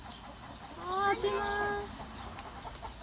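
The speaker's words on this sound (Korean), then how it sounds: "꼬꼬 화났다." A chicken clucks and squawks close by in a short agitated burst, with a voice speaking briefly nearby.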